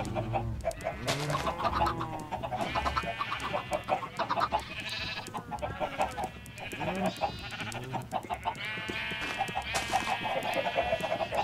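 Chickens in the Minecraft video game cluck and squawk in dense, overlapping bursts over continuous game sound, loud and busy throughout the whole stretch.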